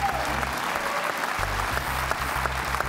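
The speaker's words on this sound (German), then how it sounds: "Das ist dein Applaus, genieß es." An audience claps for a trial bike rider balancing on a slackline, with sustained applause and crowd noise throughout and a low rumble underneath.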